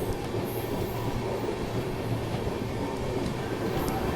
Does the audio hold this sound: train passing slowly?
yes